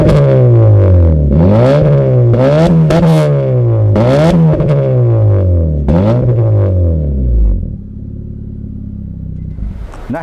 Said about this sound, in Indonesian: Nah itu untuk tadi suara knalpot ya guys